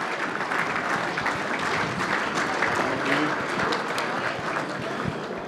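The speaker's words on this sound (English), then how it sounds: "Round of applause for the Division 3 Team of the Year." Sustained applause from a crowd, steady and fairly loud, with a few voices mixed in.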